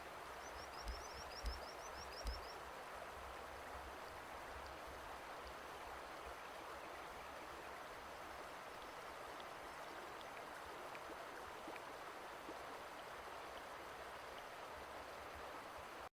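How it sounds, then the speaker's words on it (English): Ambient running-water effects for a tabletop game session aboard a sailing voyage, a steady soft wash like a stream or flowing water filling the whole stretch at low level with no talking. "We can be done with water sounds finally."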